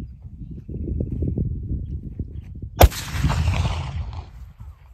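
A black powder cartridge loaded with ammonium nitrate is fired once, a single sharp, loud report midway after low rumbling handling noise, followed by a fading echo.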